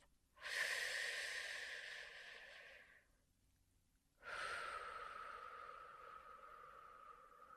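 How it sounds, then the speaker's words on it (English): Two slow, deep breaths sound close and soft, a long airy inhale followed after a short pause by a long exhale, with no talking. "Then we end that treatment round with a deep breath."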